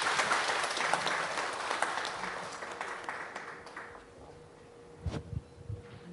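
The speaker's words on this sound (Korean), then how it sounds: "박수 부탁드리겠습니다" Applause rises from the audience at a Korean academic seminar as a Buddhist monk is welcomed to give a discussion, dense clapping that gradually thins and fades, ending with a few scattered louder claps near the close.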